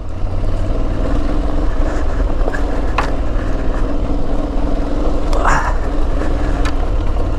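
An Aprilia Tuareg 660 motorcycle rides along dirt trails with a constant, loud engine drone and wind rush. There are occasional brief knocks and rattles.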